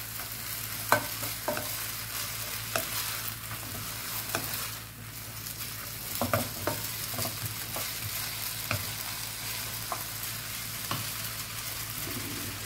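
Vegetarian glass noodles are stir-fried in a hot wok, with a steady sizzle under repeated sharp clacks and scrapes of a spatula tossing them, close and lively for the whole stretch.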